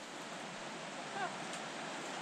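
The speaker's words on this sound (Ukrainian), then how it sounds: "Річка внизу шумить." Steady broadband rushing of water, like a river flowing somewhere below, continuous and even throughout with no clear voices.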